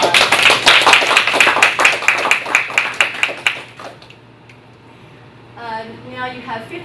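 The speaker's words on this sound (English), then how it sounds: "Let's give them another round of applause" An audience at a university competition round claps for the Fudan University team, a short burst of fairly close applause that fades after a few seconds, followed by a voice speaking.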